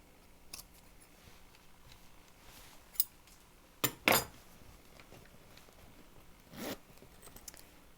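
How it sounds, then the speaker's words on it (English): A fabric zipper on a cross body bag being sewn is handled in quiet, with a few sharp metallic clicks and a short rasping zip midway, faint and close. "Being careful with the zipper teeth."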